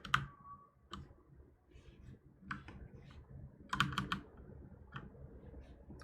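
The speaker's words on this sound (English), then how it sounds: "Plus this is a mechanical keyboard, so they're super loud." Sharp clicks from a loud mechanical keyboard, typed in short irregular bursts with pauses, close and clear against a quiet room.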